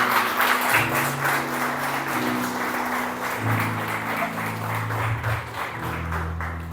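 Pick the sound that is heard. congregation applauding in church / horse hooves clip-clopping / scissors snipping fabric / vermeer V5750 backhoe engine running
congregation applauding in church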